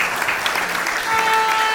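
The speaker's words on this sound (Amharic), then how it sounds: "እስኪ አጨብጭቡ ለጌታ በእግዚአብሔር።" A church congregation breaks into dense, steady applause that fills the room, loud and continuous with a brief tonal ring near the end, no clear talk over it.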